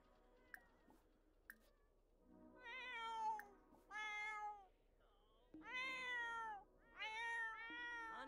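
A cat in The Sims video game meows repeatedly, four drawn-out, wavering calls spaced a second or so apart, fairly close and clear over a quiet background with a couple of sharp clicks early on.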